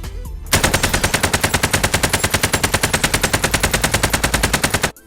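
AK-47 fully automatic fire in the video game Warzone: one loud, rapid, even stream of shots lasting about four and a half seconds, up close and alone.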